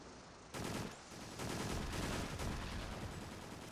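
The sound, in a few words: gunshots from the video game's Extermination final boss fight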